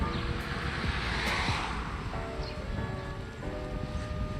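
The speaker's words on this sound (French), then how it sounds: "Mais là il pleut, il pleut, il pleut." Rain falls steadily during a gyrowheel food delivery ride in Dijon, a dense continuous hiss close to the microphone with faint tonal hums running underneath.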